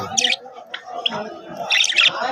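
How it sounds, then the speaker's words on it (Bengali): Several kinds of pet birds kept at a home chatter and chirp in bursts of bright, high calls, loudest near the start and end, over a steady murmur of lower background sound. "এখানে আছে কয়েক প্রকার জাতের পাখি, কিচির মিচির করে ডাকাডাকি করতেছে।"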